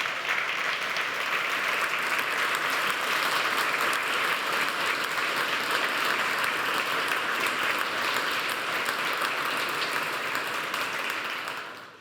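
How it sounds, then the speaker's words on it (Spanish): A large audience gives sustained, loud applause for government vice ministers at the closing of the Colombian Construction Congress. The dense clapping holds steady for about twelve seconds and fades at the very end. "yo quiero un aplauso para ellos muy fuerte"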